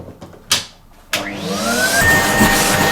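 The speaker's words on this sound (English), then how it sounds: "I'm now going to use this socket to hoover up my mess." A vacuum cleaner in a home is switched on after a couple of sharp knocks, its motor whining up in pitch and settling into a loud, steady roar as it hoovers up mess, with no talking.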